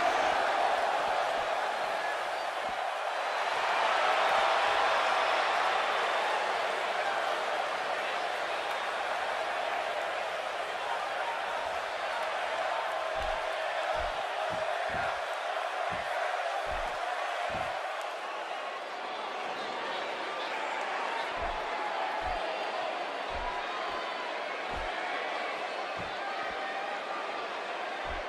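A wrestling arena crowd in WWE 2K18 before a women's Fatal 4-Way match keeps up a dense, steady roar of cheering and noise, with a commentator's voice and scattered thuds underneath.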